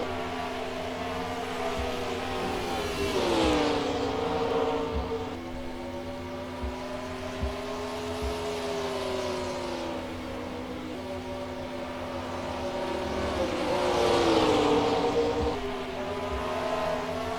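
Race cars in a 2005 MG Cup Series race at Bristol roar past in waves, engines rising and falling as packs sweep by, with a steady droning undertone between passes.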